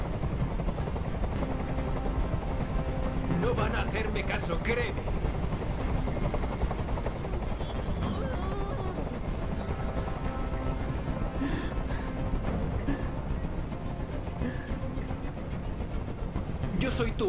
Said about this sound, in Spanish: ¡Dile a ese helicóptero que se vaya de aquí!